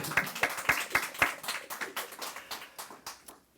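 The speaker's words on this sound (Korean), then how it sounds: "박수 한번 주십시오." Church congregation clapping in praise to God, a sparse group of hands striking in rhythm, about a dozen distinct claps that loosen into scattered patter and fade out, fairly quiet.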